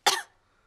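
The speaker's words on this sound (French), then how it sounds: "Mais regardez ce qui se passe quand je tousse." A single short, sharp cough, close and alone, fading quickly into silence.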